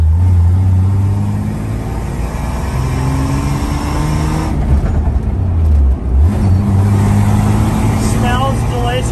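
A cheap $500 beater car driving on its first outing, its engine droning and revving steadily throughout, with people talking over the cabin noise.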